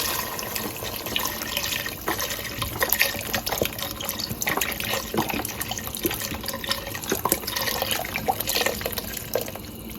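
Beef stock poured from a box into a pot for a pot roast, a continuous close, trickling liquid splash with slight gurgling variation that runs steadily without talking.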